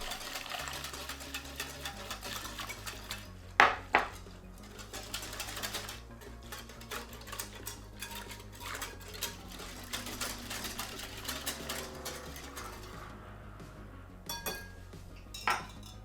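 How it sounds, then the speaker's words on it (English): A whisk beats rice flour batter in a bowl while boiling water is poured in gradually, giving fast continuous ticking and light clinking against the bowl, close by, with a few sharper knocks. "Pour the boiling water gradually into the batter while whisking continuously until fully combined."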